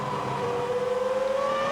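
Formula 1 race cars at the 2005 US Grand Prix, a Jordan overtaking Albers, give a sustained engine whine that slowly rises in pitch, loud and steady without a break.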